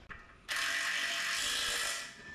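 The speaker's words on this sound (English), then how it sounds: "I'll go back with a wrench, tighten all those down" A wrench ratchets while header bolts are tightened on a rat rod truck's engine, a brief click followed by a close, steady buzzing ratchet sweep of about a second and a half, no voices.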